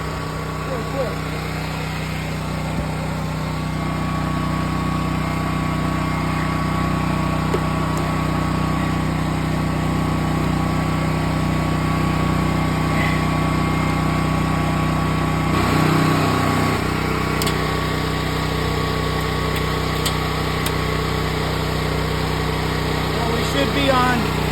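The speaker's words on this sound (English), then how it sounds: "If you don't hear that generator bob down, it's because your breaker is off." A standby generator engine runs steadily throughout, a continuous near, moderately loud motor drone with a faint shift about two-thirds of the way through.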